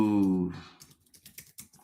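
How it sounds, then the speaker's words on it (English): Computer keyboard typing follows a brief vocal sound, a quick patter of soft, close clicks fading in and out. "Maybe I like just typing them."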